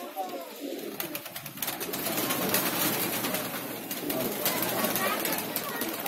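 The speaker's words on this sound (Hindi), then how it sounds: "बहुत कबूतर है साहब, बहुत कबूतर है" Pigeons in a large home loft in Bhopal, a fancier's flock of old breeds, keep up a dense, continuous babble of coos and calls, with voices talking over them throughout.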